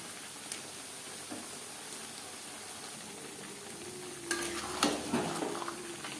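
Marinated chicken mixed with onion and tomato sizzles in a pan over a high to medium gas flame, with a steady fry hiss and a few louder stirring scrapes near the end.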